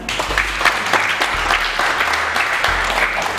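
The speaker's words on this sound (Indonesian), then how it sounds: "Tepuk tangan." Steady applause from a seated class at a speed-reading training session fills the room, a dense continuous patter of many hands, close and loud, lasting the whole stretch with no voices over it.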